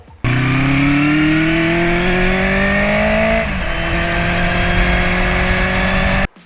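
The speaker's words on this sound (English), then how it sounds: "mid-sized torpedo muffler that delivers the perfect note for this high revving" A Honda CB400F four-cylinder engine with a torpedo muffler revs steadily upward in pitch, drops briefly, then climbs again, holding a high, continuous whine throughout.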